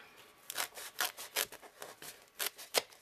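A knife cuts around the rim of a top hat: quiet, close, rhythmic rasping strokes, roughly eight short scraping pulls with brief gaps, no speech.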